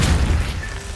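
The Depulso spell is cast in Hogwarts Legacy, a brief, loud, booming burst that fades within a second.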